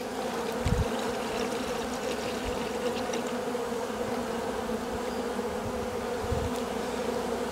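Honey bees buzz steadily around a hive-top feeder in an apiary on a ranch, a close dense drone that holds on without a break, with a few faint knocks underneath.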